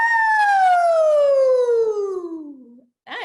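A singer imitates a siren during a vocal master class, a sustained rising then slowly falling whoop that trails off, followed by a brief vocal sound.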